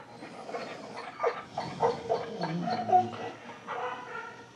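An excited dog pants and snuffles in rapid bursts, close up, with small whines and huffs mixed into the breathing, over light background noise.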